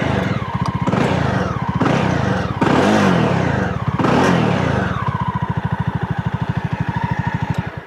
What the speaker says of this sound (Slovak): Takže takýto celku pekný bublavý zvuk jednovalca, ktorý si myslím, že k tej motorke pasuje